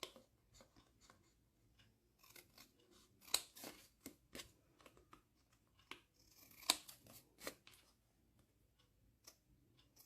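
Scissors snip through paper in a series of short, crisp cuts, quiet and close, with a few sharper clicks spaced irregularly and soft rustling between them.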